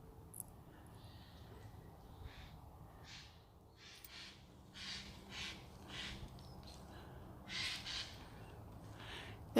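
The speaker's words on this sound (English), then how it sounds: "There is one mighty narked crow up there." An agitated crow calls from overhead on a countryside ridge trail, repeating harsh caws in an irregular series, moderately distant, over steady outdoor ambience.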